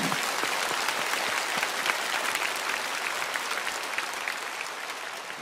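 A church congregation at an early-morning revival service breaks into sustained applause, a thick, even roar of many hands clapping for several seconds and fading slightly toward the end.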